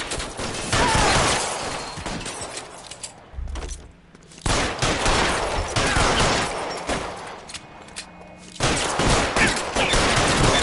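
Heavy gunfire in the video game L.A. Noire, a loud dense fusillade of rapid shots and bursts that drops off briefly near the middle before firing resumes at full intensity.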